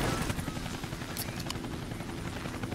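The Red Bull helicopter in the snowboarding video game Steep gives a steady, droning rotor whir. It continues without a break over a dense wash of game background noise.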